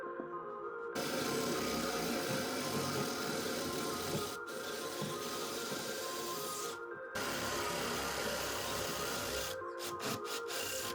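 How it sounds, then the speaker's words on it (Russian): A 30 mm spade bit boring a hole for pipe fasteners, a steady close grinding rasp with short pauses as the bit is eased off and pushed back in. "Отверстие сверлю пировым сверлом на 30 мм."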